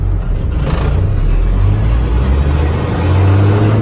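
An Isuzu Rocky truck engine revs up through the gears, its pitch climbing, dropping at each shift, then climbing again, loud and close with no talk.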